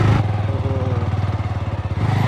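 A motorcycle engine runs steadily while riding a dirt road, a close, loud, rhythmic mid-pitched putter with no talking.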